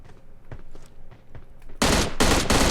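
Rapid automatic rifle fire from an M4 in the battle royale game PUBG Mobile, a loud burst of shots in quick succession after quieter footsteps and movement, close and dominating.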